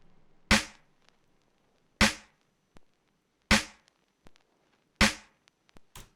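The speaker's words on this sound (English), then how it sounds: "Then we have the snare." Sampled snare drum in an old-school FL Studio beat, sharp cracking hits repeating on a steady slow beat with fast decays and faint ghost hits between them, alone and fairly quiet.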